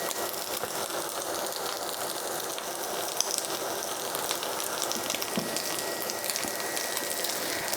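Potatoes for German Bratkartoffeln fry in a pan with a steady, dense crackling sizzle that holds evenly throughout, with no talking.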